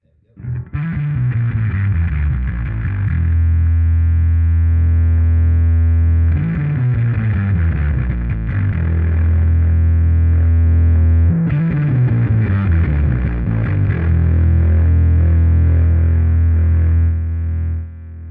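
A heavily distorted, fuzzy bass guitar riff through a Darkglass Electronics overdrive pedal, repeating three times, loud and gritty with descending low notes settling into a sustained growl.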